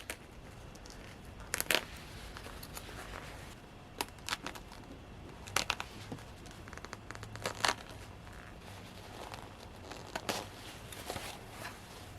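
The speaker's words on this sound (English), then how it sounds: "As long as I hold it open and just cut the stitching, the rest should just come right out." A blade cuts the stitching along a jacket seam while making Dante's jacket: faint, scattered snips and soft fabric crinkles, quiet and close, with no talking.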